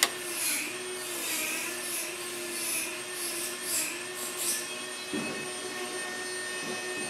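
A Buchi B-171 Vacobox laboratory vacuum pump, used with a rotary evaporator, runs with a steady whining hum and a few pulsing surges, close and continuous, with a brief knock near the end.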